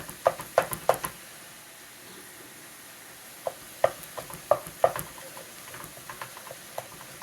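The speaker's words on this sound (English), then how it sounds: "we're still working on browning our meat" Meat browns in a pan with a faint steady sizzle, broken by sharp clicks and scrapes of a utensil stirring, some in quick clusters and others spaced apart.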